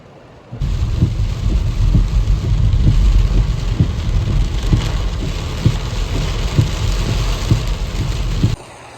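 Heavy rain in Italy pours down steadily and close by, with a rhythmic pattering of drops on a surface over a constant low rumble, starting and stopping abruptly.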